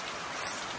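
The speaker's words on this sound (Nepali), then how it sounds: "अहिले पानी पर्छ" Steady rain falls in a Nepali village, a dense, even hiss of drops on surfaces that holds constant throughout with no voices.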